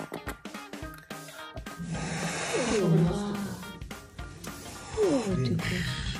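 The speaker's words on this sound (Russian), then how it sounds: "Еще они могут бухтеть и шипеть." A caracal gives low, rumbling grumbles broken by breathy hisses and snorts, close up and intermittent over several seconds.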